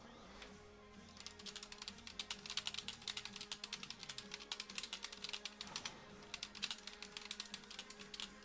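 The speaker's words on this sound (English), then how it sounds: "Literally just typing in Discord" Rapid, uneven clatter of computer keyboard keys while typing a Discord chat message, arriving in close bursts of clicks over several seconds, fairly quiet and with no talk.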